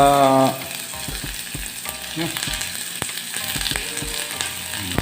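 Garlic sizzling and crackling as it burns in a hot pan, steady frying hiss with small scraping clicks of stirring, close and fairly loud, no talking.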